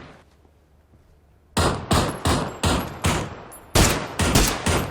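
Rapid bursts of gunfire in PUBG (Battlegrounds), a series of about ten loud, sharp shots in quick succession following a quiet stretch, each with a short decaying tail.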